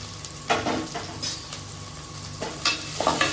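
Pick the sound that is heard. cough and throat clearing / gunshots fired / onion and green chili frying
onion and green chili frying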